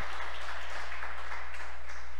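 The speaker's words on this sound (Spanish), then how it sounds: "Denle un fuerte aplauso al Señor, mi hermano" Church congregation applauding during a sermon, a dense, sustained wash of many clapping hands heard at a steady level with no speech over it.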